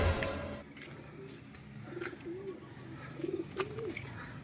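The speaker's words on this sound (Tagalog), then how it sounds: "Mukhang may kalapati na rin ata tayo dito." A pigeon coos in soft repeated rounds outdoors at a rooftop loft, a few low burbling calls spaced over several seconds against faint background noise.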